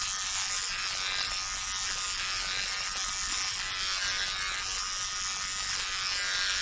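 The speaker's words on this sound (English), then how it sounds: "I'll take the razor and then I go down it with the rest of the hair." Razor shaving underarm hair, a continuous close buzzing and scraping hiss that holds steady at an even level throughout, with no talking.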